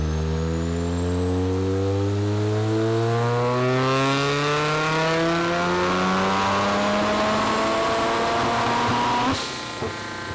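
A rotary-engine Corvette on a dyno makes a boosted 15 PSI pull, its engine whining steadily higher in pitch under heavy load for about nine seconds before backing off abruptly.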